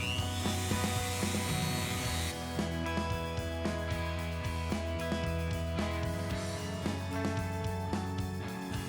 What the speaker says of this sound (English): With a cutting wheel attachment on my dremel tool,